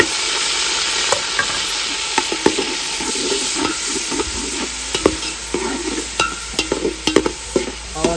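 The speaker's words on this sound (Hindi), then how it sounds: "अब जो है इसमें टमाटर, हरी मिर्च और प्याज ऐड कर दिया।" Tomatoes, green chilies and onions fry with browned garlic and ginger, a loud close sizzle broken by repeated clicks and scrapes of stirring throughout.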